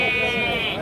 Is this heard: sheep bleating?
yes